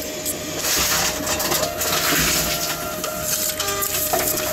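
An Envipco ULTRA48 reverse vending machine at a Walmart Neighborhood Market takes in and crushes bottles, giving a continuous mechanical whir with crackling, crunching bursts, close and moderately loud.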